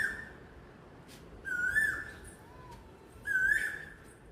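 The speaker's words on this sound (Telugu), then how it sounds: "కోయిల సౌండ్ ఏడినా భలే వినిపిస్తుంది" Two clear, rising whistled calls of an Asian koel repeat a couple of seconds apart over a quiet outdoor background.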